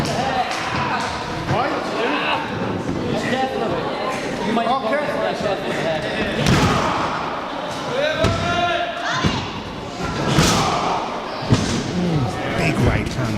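Pro wrestling match with a vertical suplex, knife edge chops and punches: several loud slams and thuds from bodies hitting the mat and sharp strike impacts, under continuous commentary and crowd chatter.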